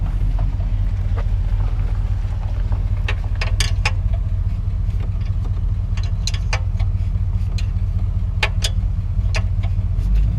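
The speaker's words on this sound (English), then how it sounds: "Truck's got rod knock." A V8 truck engine with rod knock idles loud and close in a constant low rumble, scattered sharp ticks and taps rising above the steady drone.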